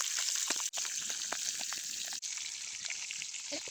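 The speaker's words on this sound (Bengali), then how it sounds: "একটা মাছটা ফ্রাই করতে বসে দিলাম" A fish frying in a pan while cooking outdoors, a steady close sizzle and crackle with scattered pops, continuing without a break apart from two short dropouts.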